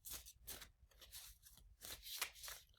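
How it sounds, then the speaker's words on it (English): Playing cards being shuffled by hand, a deck with photos printed on the cards, giving repeated papery riffling bursts with short pauses between, close and fairly quiet, no talking. "Just see if I can get this shuffling going properly."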